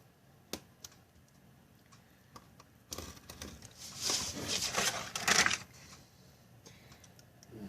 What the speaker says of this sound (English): when you're cutting lines like this that you have a really sharp X-Acto knife blade